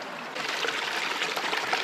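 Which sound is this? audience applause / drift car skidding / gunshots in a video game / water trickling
water trickling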